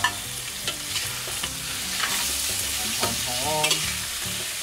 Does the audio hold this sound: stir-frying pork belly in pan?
yes